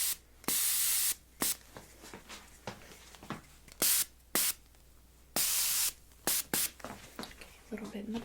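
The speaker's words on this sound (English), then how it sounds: "I'm just going to add your hairspray here." Hairspray from an aerosol can is applied to hair in a quiet, close-up salon setting: a series of short, crisp hissing bursts, some brief and some longer, separated by pauses.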